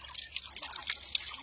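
Cold mountain spring water drips and trickles steadily at close range, a light, continuous patter with a brief brighter splash near the end.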